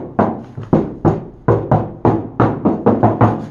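Knuckles rap on an uninsulated door of a 1969 Barracuda, about a dozen hollow, resonant knocks in quick uneven bursts, close and fairly loud, with no talking.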